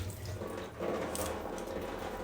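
Tap water runs steadily as someone washes their face at a sink, with a continuous close splashing flow that grows slightly louder partway through.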